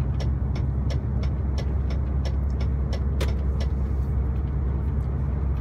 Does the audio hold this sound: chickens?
no